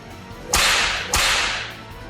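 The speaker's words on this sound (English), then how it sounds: "lashed the giant crocodile twice with her whip" Two sharp whip cracks about half a second apart, each a loud snapping lash with a short fading tail, in a fantasy battle setting with no voices.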